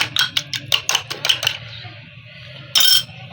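A chicken shami kabab mixture with potato and lentils is beaten in a bowl, producing a quick run of about eight bright metallic clinks. A short lull follows, then another brief clattering burst.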